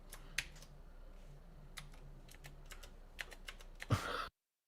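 Typing on a computer keyboard, with a run of scattered key clicks of uneven rhythm over a low hum, ending in a louder burst of rapid keystrokes before cutting to silence.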